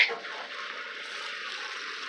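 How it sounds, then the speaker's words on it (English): Water from a sump pump gushes steadily and fairly close, a constant rushing hiss after a brief louder start, with no talk over it. "There goes the sump pump."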